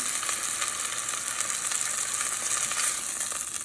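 Turkey tenderloins browning in a frying pan give a steady, close hiss of sizzling fat that holds even and continuous throughout, with no talking.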